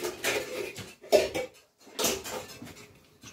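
A larger mixing bowl taken up in a kitchen for tossing a fennel and apple salad, giving a few separate clinks and knocks of dishware with short quiet gaps between them.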